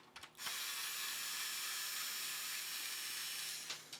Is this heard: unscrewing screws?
yes